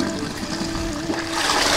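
Dirty water rushing out of a koi pond filter during a backwash through an opened two-inch valve, a steady gushing, splashing flow that grows slightly louder toward the end.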